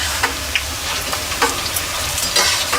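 Kara boondi frying in hot oil and being stirred: a steady crackling sizzle with light scraping strokes of the spoon recurring throughout, close up, with no voices.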